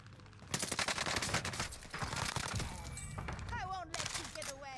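Rapid bursts of gunfire in Call of Duty: Warzone ring out loud and dense over a few seconds, mixed with game effects and chirping tones, while a voice talks over the action.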